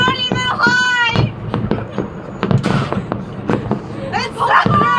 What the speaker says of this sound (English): I see fireworks.